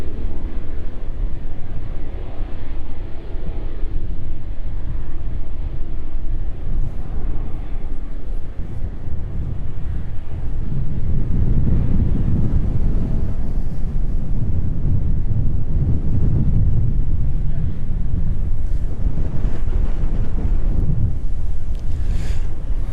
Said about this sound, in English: Definitely a little bit windier than we're used to